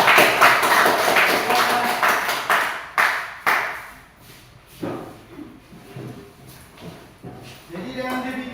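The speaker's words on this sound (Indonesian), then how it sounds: "Mari kita berikan tepuk tangan kelompok 3." Scattered classroom clapping for a student group after a lesson discussion, uneven bursts that fade in and out over several seconds, with voices and small taps and shuffles mixed in.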